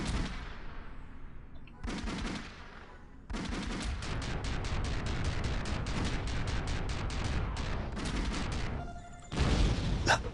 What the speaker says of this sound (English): That explosion is so good.